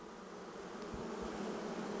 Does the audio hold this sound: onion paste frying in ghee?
no